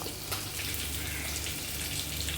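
A blended paste of milk and cashews pours into an egg curry, giving a continuous close watery rush with no talk over it.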